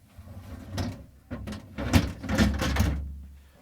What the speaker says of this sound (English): I'm going to remove both vegetable drawers, pulling straight out, lifting up and sliding out